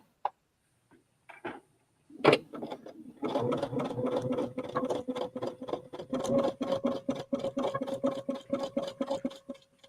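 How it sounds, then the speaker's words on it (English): A sewing machine stitches fabric in a fast, steady run of close, rhythmic mechanical ticking and whirring, after a few isolated clicks at the start. "And then all I have to do is sew."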